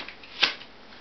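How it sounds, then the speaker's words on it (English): A deck of playing cards, cut in half, gets one quick riffle shuffle: a single short, close fluttering burst with near silence around it. "Now all I do is got to cut it in half and give it a nice little shuffle."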